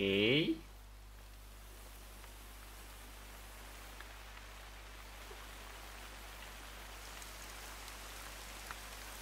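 Steady rain falls in a hunting video game, a soft even hiss after a short burst of other game sound at the start, with a low constant hum underneath.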